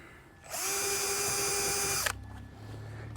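A power drill boring pilot holes whines steadily at high speed for about a second and a half, then stops abruptly, leaving a low hum behind.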